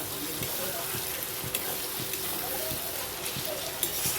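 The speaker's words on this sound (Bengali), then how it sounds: "দেখতেই পাচ্ছ টমেটো দিয়ে আমি নাড়াচাড়া করছি" Tomato frying in a pan for chicken curry while being stirred, a dense, steady sizzle close by with regular soft scraping strokes of the spatula.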